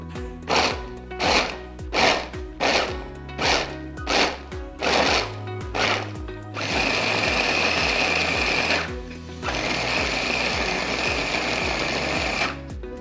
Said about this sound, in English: we're gonna take the dates and put them in a food processor so that we can chop them up as fine as possible